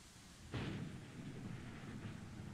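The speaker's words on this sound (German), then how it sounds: "Gesagt, es gibt ein bestimmtes Geräusch, wenn ein riesiger Sturm kommt." A deep thunderclap from a storm in the dinosaur park game Jurassic World Evolution breaks in suddenly, then a low, rolling rumble lingers, loud and close.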